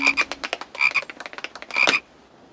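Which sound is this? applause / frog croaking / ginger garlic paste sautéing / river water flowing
frog croaking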